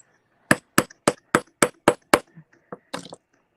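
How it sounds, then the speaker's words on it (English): Seven sharp, evenly spaced hammer strikes ring out at a desk while someone works on a handmade corset purse, followed by a few softer, irregular knocks, all close and distinct. "I had to hammer for him a few times."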